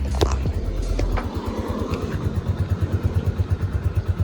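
A stock-exhaust Cafe Racer 152 motorcycle idles nearby with a steady, even putter that follows a brief blip of the throttle.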